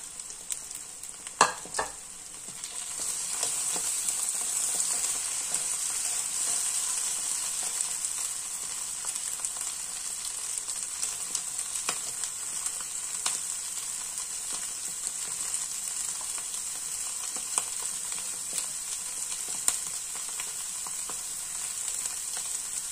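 Spring onions stir-fry in a pan with a continuous, even sizzle, plus a few sharp utensil clinks near the start and no voices.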